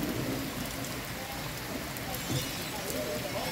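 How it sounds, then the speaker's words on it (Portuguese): Heavy rain pours down near the Véu de Noiva waterfall in Chapada dos Guimarães, a dense, loud, continuous wash of falling water with no break. "E pegamos Chuva. chuva, bastante chuva mesmo."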